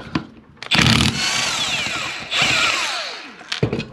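Power tool, likely an impact gun, spinning off the 7/8 pulley nut on a failed alternator: two loud sustained whirring bursts with pitch sweeps, separated by short pauses and ending with brief rattles.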